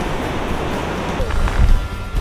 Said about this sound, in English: So right now we're just walking along the beach.